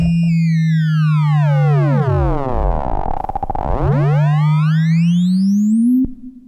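A Joranalogue Filter 8 synth module produces a clean electronic tone whose harmonics sweep down and then back up in smooth glides over a steady low drone, loud and alone, ending with a sharp click.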